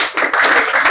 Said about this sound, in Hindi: बहुत बढ़िया, ताली बजाइए।